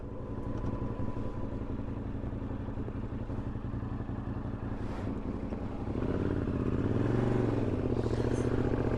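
A Yamaha TRX 850 motorcycle engine runs with a rattle, a steady close idle with a mechanical clatter, rising into a louder rev in the last few seconds.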